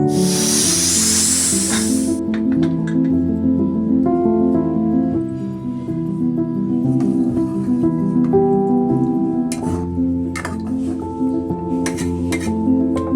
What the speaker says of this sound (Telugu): 3 విజిల్స్ వచ్చే వరకు ఆగండి.